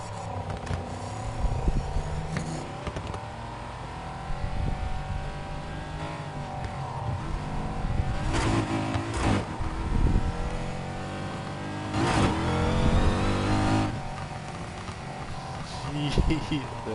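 A supercharged car engine revs and surges in the racing game Need For Speed Heat, with a droning pitch that rises and falls through acceleration while a person talks over it throughout.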